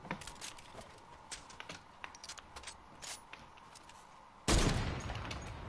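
Video game gunfire, a series of sharp shots and bursts at moderate distance over quiet background, ending in a louder, sustained blast of fire.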